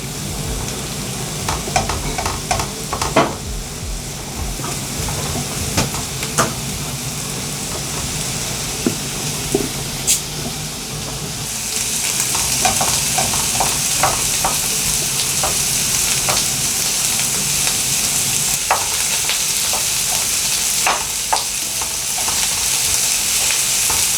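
Onions sauté gently in a pan while a wooden spoon stirs them. A steady, close sizzle runs throughout, broken by soft scraping knocks, and it grows brighter and fuller about halfway through.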